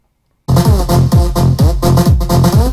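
Bass music from a track, a bouncy electronic groove with loud, punchy kicks and dense, wobbling synth bass pulsing in a fast, regular rhythm, starting abruptly after a moment of silence.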